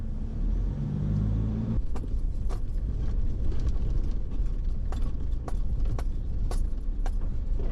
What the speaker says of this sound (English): There's a car just coming down the hill at the moment.